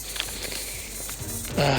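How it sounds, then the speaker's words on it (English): High buzzing of mosquitoes close around the microphone at the edge of woods in Goose Island State Park, Rockport, Texas, faint and continuous against a noisy outdoor background. "I have hundreds of mosquitoes around me right now"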